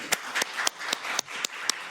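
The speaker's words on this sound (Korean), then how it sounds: "그냥 우리 박정훈한테도 박수 한번 쳐주세요." Sparse, rhythmic clapping at a Korean policy forum on power grid issues, about eight sharp claps spaced evenly, fairly quiet and near, with no talk over them.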